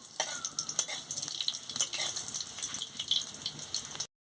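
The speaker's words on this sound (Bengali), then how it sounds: "এবার তেল গরম হয়েছে আমি শুকনো লঙ্কা আর ফোড়নটা দিয়ে দিচ্ছি দিয়ে ভালো করে একটু নাড়িয়ে নিচ্ছি" Dried red chillies and whole spices tempering in hot oil while being stirred, a dense crackling sizzle with scraping stir strokes throughout, steady and close, no voices.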